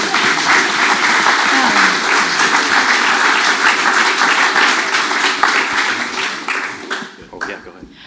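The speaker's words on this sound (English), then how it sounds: "Let's give him a round of applause" Steady, dense applause from an audience at a photography talk, loud and continuous for several seconds before thinning out into a few scattered claps and some room chatter.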